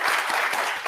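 A short burst of steady audience clapping for conference panelists at a game-industry event, moderately loud and continuous across the whole moment.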